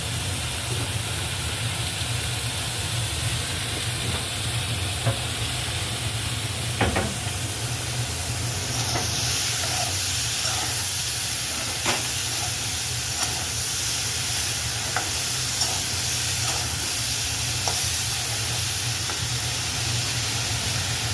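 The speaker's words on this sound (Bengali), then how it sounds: "অল্প তেল দেওয়া হচ্ছে সবজিগুলো" Vegetables fry and get stirred in a little oil, giving a continuous soft sizzle and hiss with faint scraping taps of the stirring spoon at irregular intervals, steady and close throughout.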